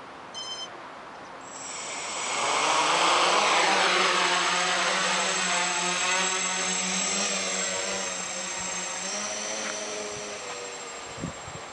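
A KK quadcopter's motors spin up to 80% throttle, a rising high-pitched propeller whine that swells after a short beep sequence and holds as a steady, fairly close drone.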